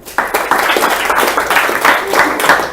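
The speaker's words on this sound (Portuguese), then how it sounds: "Você pode dar um aplauso ao Senhor?" Congregation at a church service clapping together in applause, a dense, steady patter of many hands filling the room, fairly loud and close, with some voices mixed in.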